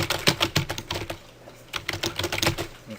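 Rapid typing on a computer keyboard, a dense run of close, crisp key clicks with a brief pause midway, heard alone without any voices.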